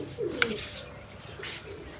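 A soft pigeon coo sounds close by from a large pigeon loft, with faint rustling around it in an otherwise quiet space.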